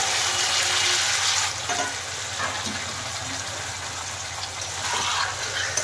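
Bitter gourd and stem vegetables dropped into hot tempering with green chilies, a loud burst of sizzling that settles into a steady, close frying hiss.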